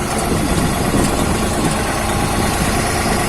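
A New Holland TT4 tractor engine runs steadily at close range, a loud, even diesel drone with constant vibration and no break for the full few seconds.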